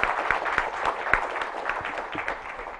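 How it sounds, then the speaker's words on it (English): A conference audience gives a round of applause for four panelists after a Thailand–Indonesia trade and investment discussion, with dense, moderately distant clapping that stays even throughout the short stretch. "I would like to invite you all to give a round of applause to our four"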